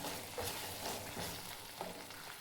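Masala for rajma curry sizzles and fries in oil, a soft, steady crackling hiss with faint stirring scrapes, close and quiet with no talking.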